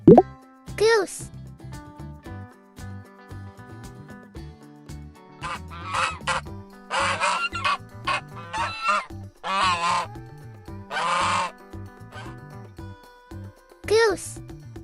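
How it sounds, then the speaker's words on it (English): A goose honks in a series of sharp, nasal calls spread through the clip, loud and close, with short pauses between bursts and no talking over them. "Goose."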